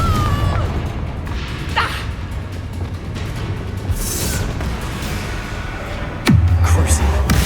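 A Confringo fire spell cast in Hogwarts Legacy, heard as punchy, crashing bursts amid steady rumbling game ambience, with a sharp loud blast near the end followed by a heavier rumble.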